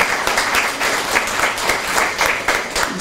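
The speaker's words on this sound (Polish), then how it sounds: "wielkimi oklaskami." Applause at a literary evening launching a writers' group almanac in Mielec, Poland, following a sung performance; lively, close clapping with rhythmic surges from a roomful of listeners.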